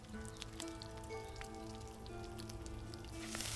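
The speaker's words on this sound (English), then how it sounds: "you're waiting for the sizzle sound and then it's done" Meat sizzling on a cooking spit in the video game Enshrouded, a steady crackling fry with faint pops, heard alone at moderate level over a low game ambience.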